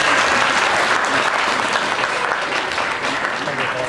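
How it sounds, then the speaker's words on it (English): An audience applauds children's entries at a Bangladeshi Independence Day celebration held by a cultural group in Ipswich, with steady, dense clapping sustained throughout at a fairly loud level. "can we give the children a big round of applause for taking part?"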